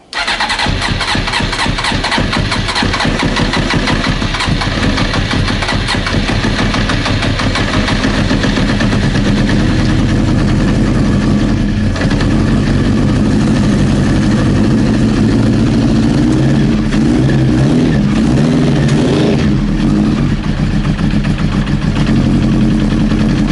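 A Honda CBR 900 Fireblade with running issues starts and settles into a rough, loud idle close by, chugging steadily while it warms up, with slight changes in pitch later.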